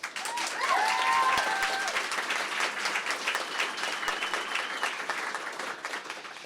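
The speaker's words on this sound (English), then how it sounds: "Please have a round of applause for these 3 people." An audience at a Poetry Out Loud recitation contest gives a round of applause for three finalists, steady dense clapping with a few cheers and whoops near the start.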